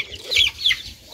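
An Aseel chicken chick gives two short, high clucking chirps in quick succession, close and fairly loud, over faint low background rumble.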